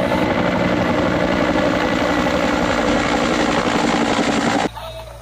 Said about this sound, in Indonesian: Wow, ini kan helikopter